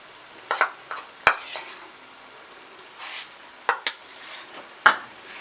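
Grated green pumpkin for halwa roasts in plenty of ghee with a soft, constant sizzle, while a spoon stirs and taps against the pan in sharp, scattered clicks, close up and without speech.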